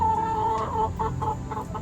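A rooster clucks close by, a quick series of short, clipped calls over a faint farmyard background.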